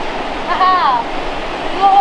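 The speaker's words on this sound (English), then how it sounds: "you've got all the little mini waterfalls at the other side. It's mini rapids, isn't it?" Small waterfalls and mini rapids on a calm river make a steady broadband rush of water, heard close and continuous while a person talks over it.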